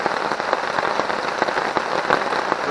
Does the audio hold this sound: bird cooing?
no